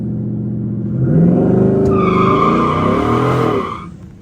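A twin-turbo Ford F-150 4x4 held on the foot brake revs up hard, the engine note climbing loud for a couple of seconds with turbo whine, then dropping away.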